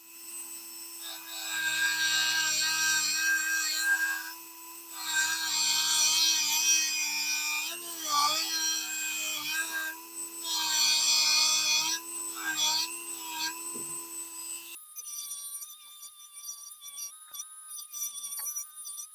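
A rotary tool grinds notches into a steering head bearing race on a Yamaha Vmax, producing a loud, close, high-pitched whining buzz in long sustained passes with brief pauses, then a quieter, thinner whir at the end.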